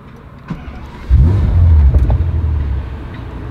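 A new Bentley Continental GT engine starts at the press of a button: a short crank, then a loud close-up roar that settles into a deep, steady idle.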